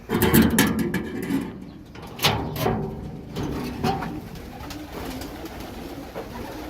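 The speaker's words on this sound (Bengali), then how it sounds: "আজকে নতুন কিছু দেখাবো আপনাদেরকে তা হলো কবুতর" Pigeons coo in soft, repeated low calls close by, mixed with rustling and scattered thumps from the birds moving around.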